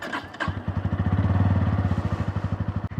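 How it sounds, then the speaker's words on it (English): A Bajaj Pulsar N160 motorcycle, a 160cc bike, starts up and idles with a steady, even low thump, close and loud, settling into a smooth, stable rhythm with nobody talking. "I'll just give you a quick listen to show you what this motorcycle sounds like"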